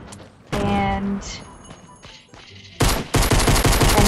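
Gunshots in Fortnite at Tilted Towers, a loud close burst around the half-second mark, then quieter handling sounds before a second rapid flurry of firing near the end.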